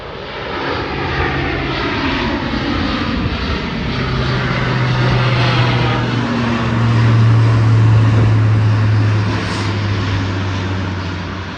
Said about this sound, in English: A C-17 Glowmaster is coming into land.